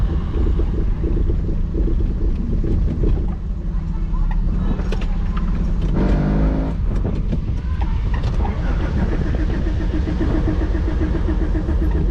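Engine of a 1988 car idling rough with the throttle set low, a loud continuous rumble with uneven shaking pulses and a brief rattling burst midway.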